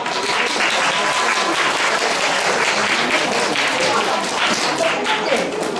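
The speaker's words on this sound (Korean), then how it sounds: "다시 한번 큰 박수 부탁드립니다" Audience applause at a student fusion concert, a sustained dense wash of clapping from a large crowd that stays loud and steady throughout, with faint voices mixed in.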